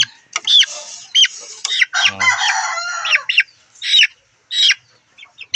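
Chickens cluck and squawk in short bursts inside a chicken coop, close and fairly loud, with a brief louder call in the middle and no talking.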